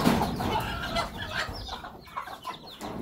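A hen clucks steadily and close by, a dense run of agitated clucks with no talking over it.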